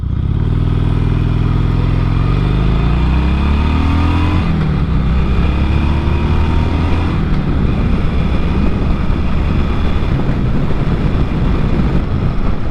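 A 2007 Harley-Davidson Sportster 1200 Custom motorcycle riding, its V-twin engine loud and close, revving up through the gears with rising tone before settling into a steady rumbling drone over road and wind noise.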